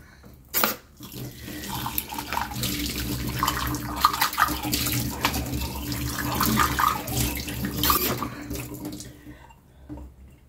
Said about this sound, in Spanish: Ahora sí ya vamos a lavarlo bien